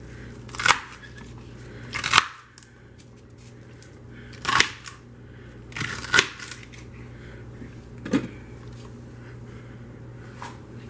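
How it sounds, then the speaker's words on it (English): A knife cuts through celery in about six separate crisp crunches, spaced a second or two apart, close up over a quiet background. "I'm going to cut up the celery a little bit."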